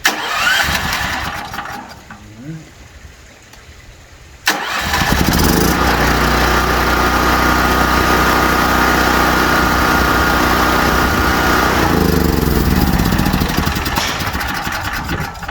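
A Firman Tri Fuel 7500 watt generator cranks briefly on propane, then catches and roars into a loud, steady close-up running drone that holds for about ten seconds before easing slightly.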